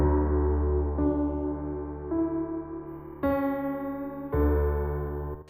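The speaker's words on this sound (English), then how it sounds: "Then we'll use Redux, which is a digital distortion." A piano run through Ableton's Redux digital distortion plays sustained chords that shift several times over a few seconds, with gritty, bit-crushed upper overtones and steady loudness, and no one talking.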